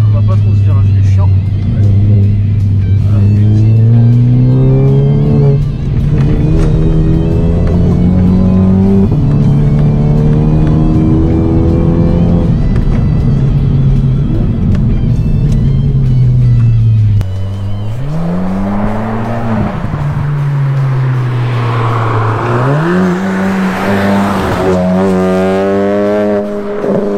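Tuned Golf 7 GTI Performance with a stage 2+ engine revving loudly and close in the mountains, a sustained droning engine note rising and falling through the gears.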